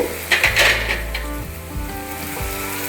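Steady loud sizzling and frying of spices for peas gravy in a hot pan, with occasional clinks of a utensil stirring against metal.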